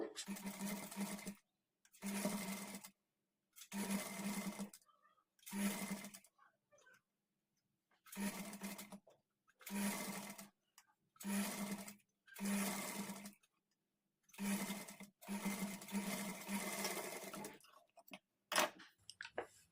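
A sewing machine with a normal presser foot stitches thread piping onto fabric, running in about eight steady bursts of two seconds or so with short pauses between them, close and clear, and no talking.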